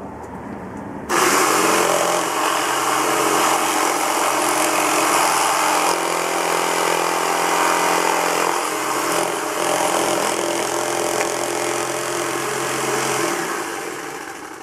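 A power tool roars into a steady, loud cutting whine that runs without a break for about twelve seconds before easing off.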